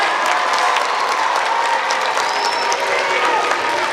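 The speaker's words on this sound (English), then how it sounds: "let's give them a big round of applause." A theatre audience at a film festival screening event applauds steadily and loudly for the sponsors, a dense wash of clapping with some cheering, sustained evenly throughout.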